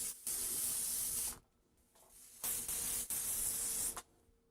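A small sprayer, fed through a thin tube, gives out bursts of loud, close hissing spray. There are two long blasts and shorter spurts between them, separated by quiet gaps.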